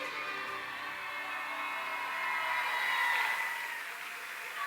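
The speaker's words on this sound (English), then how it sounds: "One more applause over here." A crowd claps steadily through a back-to-school welcome event at Rosemead High School, swelling slightly toward the middle before easing off, with faint tonal sounds mixed into the clapping.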